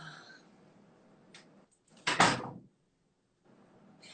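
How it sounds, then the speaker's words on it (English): Indoors, a door is pushed shut with a single close, firm knock and latch thud after a brief rustle of movement, followed by near silence. "let me close my door really quick"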